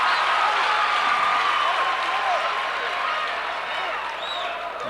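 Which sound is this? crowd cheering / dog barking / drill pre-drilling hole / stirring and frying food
crowd cheering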